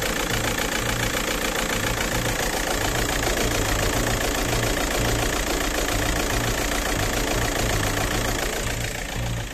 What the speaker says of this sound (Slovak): A ako môžeš počuť, ten motor ide strašne.